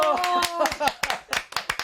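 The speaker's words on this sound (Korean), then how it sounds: "박수 한번 주세요!" People clap at a family meal table, giving a round of applause for the cook; several sharp, close hand claps ring out in uneven bursts while voices talk over them.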